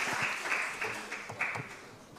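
An audience at a Juneteenth talk applauds, giving a dense, sustained wash of clapping that fades slightly toward the end.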